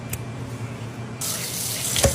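Tap water runs steadily into a kitchen sink while raw chicken is rinsed, starting as a quieter trickle and then swelling into a louder, fuller splashing stream close by.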